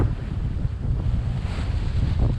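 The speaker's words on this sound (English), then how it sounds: "The wind's a little stronger now that we're out here, and also it's choppier." Strong wind and small, choppy waves sound while a sailboat pounds along between Caribbean islands. Buffeting wind noise and surging water roar steadily and closely throughout.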